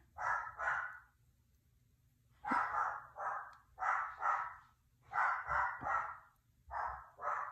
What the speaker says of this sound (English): I don't know what my dog is going insane over.